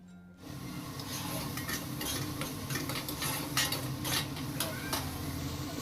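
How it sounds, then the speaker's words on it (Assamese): A paste of ginger, garlic and cumin with turmeric and chili powder fries in a pan for potol curry. A soft sizzle runs under a spoon stirring and scraping against the pan. "এতিয়া এনেদৰে এইখিনি অলপ সময় ভাজি থাকিম।"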